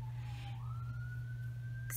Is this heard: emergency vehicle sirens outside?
yes